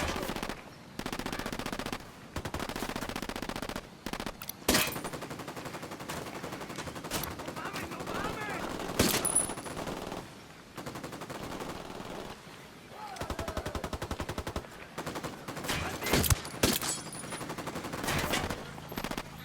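Video-game gunfire in Ghost Recon Wildlands: repeated bursts of automatic rifle fire and single shots across the whole stretch, loud and close, with sharp cracks and brief lulls between volleys.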